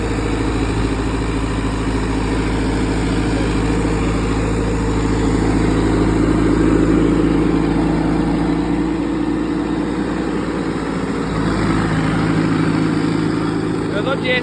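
A Sonalika 750 III tractor engine fitted with an added turbo runs steadily at night, a loud, deep, continuous engine drone near the listener, with a slight rise in intensity midway and voices talking over it.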